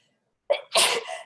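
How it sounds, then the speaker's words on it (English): A single sneeze bursts out during a classroom lecture on cost of quality, with a short sharp intake followed by a loud, breathy expulsion, close and alone without talk. "I need to sneeze."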